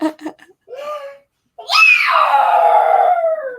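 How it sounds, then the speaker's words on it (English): A young child lets out a long, loud, sustained scream at close range, preceded by short bursts of childish vocalizing and a brief pause. "Okay, don't scream."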